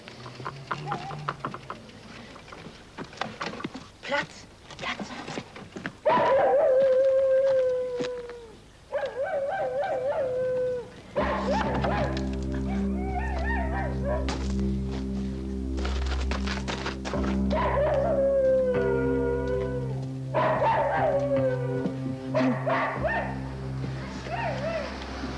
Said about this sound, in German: Da ist ein Hund eingesperrt